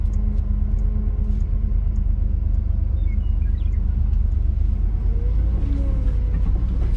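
An old heavy-duty Chevy pickup crawls off-road in first gear with no clutch, giving a steady low engine rumble throughout, close and continuous, with faint voices in the background.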